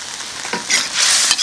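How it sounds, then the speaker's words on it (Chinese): Kung pao chicken stir-fried in a wok, its starch-thickened sauce sizzling loudly as a spatula scrapes and tosses the pieces, the frying swelling in steady bursts with no talk. "再炒一下就差不多了的"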